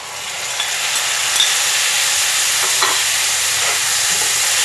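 Tomato sautéing in a pan with golden-browned onion, garlic and ginger, a steady close sizzle and fry hiss running throughout with a few faint stirring scrapes, no talking.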